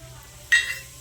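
Bay leaf, dried red chilli and cumin seeds drop into hot oil left from frying potatoes, setting off a sudden sharp sizzle halfway through that quickly settles into a quieter crackle.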